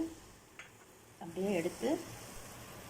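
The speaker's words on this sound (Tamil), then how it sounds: "முந்திரி போட்டு இது ஃப்ரை ஆகட்டும்" Cashew nuts frying in a pan give off a faint, steady sizzle, with a brief voice and a few soft sounds rising over it midway.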